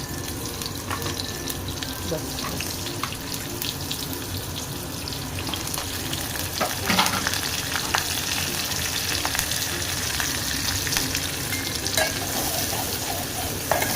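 Chopped onion with curry leaves frying in hot oil as a tempering for a prawn and fish curry: a continuous, close sizzle with stirring scrapes and clinks throughout, and one brief word spoken.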